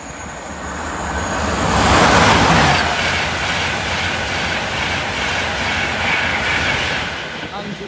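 An intercity train rushes past Claypole level crossing, a loud close roar of wheels and carriages that swells and then holds steady, with a faint high tone above it and a voice or two briefly heard.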